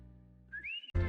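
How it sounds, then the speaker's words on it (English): A brief rising whistled melody plays in a show intro, a clear tonal glide over a low musical background before a louder burst of sound cuts in at the end. "I like the whistling."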